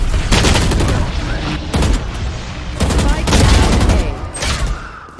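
Rapid automatic gunfire in Valorant, loud close bursts of shots in several volleys with brief gaps between them, with a voice talking over the shooting.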